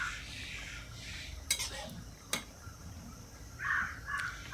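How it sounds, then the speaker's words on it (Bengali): A spoon stirs potato and bottle gourd curry in a pan, making a few short scraping clinks. It is fairly quiet against a hissy background, and a bird caws faintly nearby. "ভালোভাবে নেড়ে দেখে নেব।"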